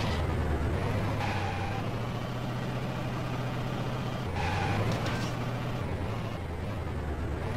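Toy car engine in the Hot Wheels Bash Arena video game, a steady droning motor hum that runs continuously with slight swells, loud and unbroken.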